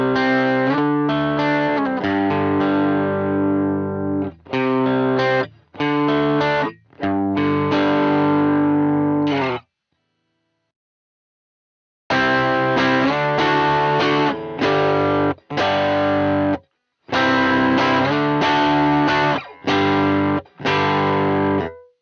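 Electric rhythm guitar with heavy distortion plays chunky chord takes in bursts, loud and close, with short gaps and a longer silence midway before the strumming resumes.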